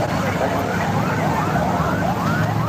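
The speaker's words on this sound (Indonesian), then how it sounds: "Ambulan." An ambulance siren wails in a street crowded by a mass protest, its repeated rising sweeps partly masked under dense crowd noise and nearby voices.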